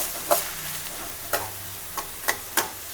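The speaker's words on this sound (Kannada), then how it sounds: "ಫ್ರೈ ಮಾಡ್ಕೋಬೇಕು ಇದನ್ನು ಈರುಳ್ಳಿನ." Onions fry in coconut oil in a home kitchen pan, a soft steady sizzle broken by five sharp scraping stirs spaced about a second apart.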